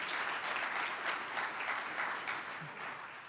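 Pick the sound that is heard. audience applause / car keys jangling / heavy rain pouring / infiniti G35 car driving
audience applause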